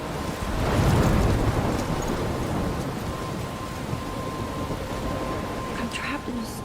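A heavy storm in the video game Life is Strange: steady, loud rain hiss and wind wash throughout, with a deep rolling thunder swell near the start, as a voice speaks briefly over it.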